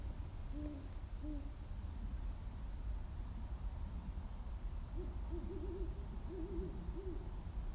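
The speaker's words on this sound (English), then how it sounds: "out here at night listening for owls" Owls hoot at night outdoors, a pair of short hoots early on followed by a longer series of wavering hoots later, moderately distant over a steady low background hiss.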